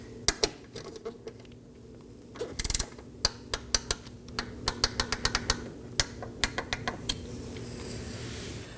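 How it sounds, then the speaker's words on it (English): A ratcheting torque wrench tightening bolts on a 2018-2024 Chevrolet Equinox near the lower active grille shutter, with rapid, uneven clicks in bursts and a brief metallic rattle close by. "We're also going to torque these down to 22 inch-pounds."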